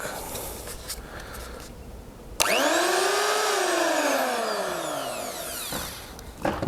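An RZTK AP 1000 electric planer switches on with a sudden whine that spins up to a steady high motor hum, then winds down as it is switched off, close and loud.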